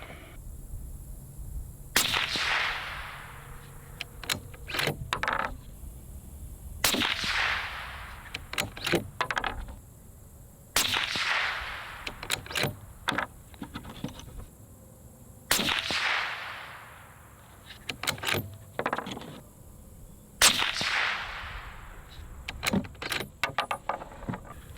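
A suppressed Howa 1500 rifle fires 168 grain Federal Gold Medal Match rounds outdoors, five loud sharp cracks spaced several seconds apart, each trailing into a decaying echo, with clicks and handling noises between shots.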